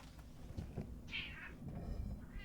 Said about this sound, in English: Why'd you meow like that when I pick you up?